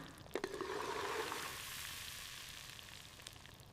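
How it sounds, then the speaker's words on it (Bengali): Goat meat sizzles and fries in a hot pan with spices, a steady close crackle that swells as the meat goes in and then settles into an even sizzle, with no talking. "এই যে ধুয়ে রাখা মাংসগুলো এবার দিয়ে দেব। ভালো করে কষাতে হবে।"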